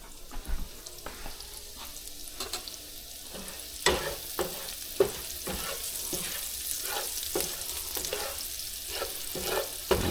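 Garlic sizzles in a pan over medium heat, a moderate frying hiss punctuated by regular scraping stirs and a few louder clinks, with no speech.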